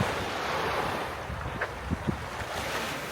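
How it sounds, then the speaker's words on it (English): Waves lapping on a beach below a seawall in Corsica make a steady, broad wash of surf blended with wind rumble, with a few faint soft knocks and no talk. "You can hear the waves lapping up in the background"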